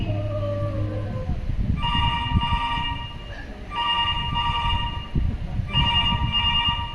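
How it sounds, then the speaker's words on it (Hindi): A telephone rings in repeated bursts, about three rings separated by short pauses, clear and fairly loud over low background rumble, with no talking. "असिस्टेंट डायरेक्टर का फोन।"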